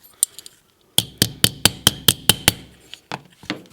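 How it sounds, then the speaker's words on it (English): A brass hammer strikes the metal body of a 1976 Redline American Tipper Hot Wheels toy car, flattening it: a rapid series of about ten sharp, ringing metallic taps, preceded by a few lighter taps. "This is a brass hammer"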